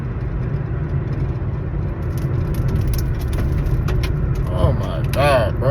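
A truck with concrete caked on it drives by outdoors, its engine rumble and road noise building steadily over several seconds, with traffic whir beneath and faint, distant noises near the end.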